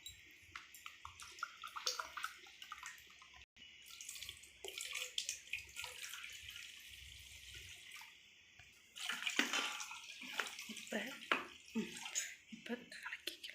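Water poured while making nannari sherbet at home, a broad splashing flow running through most of the stretch, with a louder gush near the end, close to the mic.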